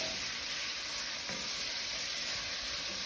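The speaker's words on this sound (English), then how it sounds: "Give it a good stir." Chorizo chicken tinga sizzles and hisses steadily in a hot pan with garlic and oregano while it is stirred, a dense close frying crackle with a faint scrape of the spoon.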